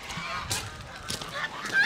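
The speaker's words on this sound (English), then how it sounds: "The geese are not too happy." Geese on a farm give several loud, sharp honks in short bursts, close by, with outdoor background noise between calls.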